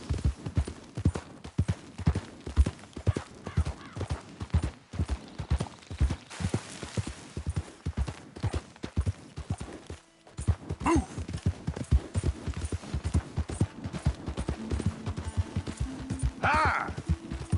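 A horse in the open-world western game Red Dead Redemption 2 gallops with steady, rapid hoofbeats that sound loud and close. A brief gap comes midway, then the rhythmic clip-clop resumes with a short whinny-like cry near the end.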